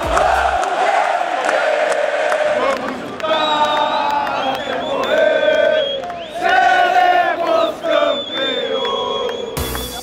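Inter supporters chant and sing together at Beira-Rio stadium before a Copa Libertadores night match, a massed crowd in sustained, loud melodic unison with swelling phrases and scattered shouts throughout.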